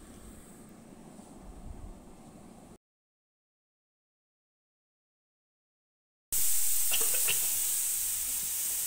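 Punarnava greens sizzle in a wok held with tongs and stirred, a soft frying hiss that cuts out to silence for several seconds, then returns as a louder, brighter sizzle.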